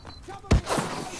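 A single sharp gunshot in Call of Duty Modern Warfare Remastered cracks out close and loud midway, a quick thudding burst followed by a short tail, with faint background game noise around it.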